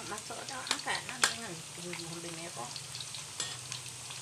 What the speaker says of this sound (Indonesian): Goreng ubi dulu.